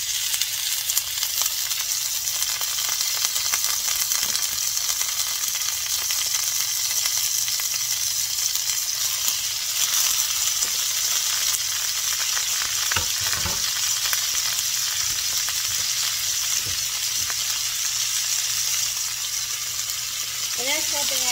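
Canned mushrooms fry in grease in a cast iron skillet, giving a loud, steady sizzle and crackle of spattering oil throughout, with occasional stirring scrapes.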